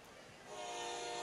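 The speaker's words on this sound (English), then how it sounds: "that's the train whistle behind us." Train whistle sounding at a high school football game, a steady tonal blast rising and holding behind the field's crowd noise, fairly distant and sustained.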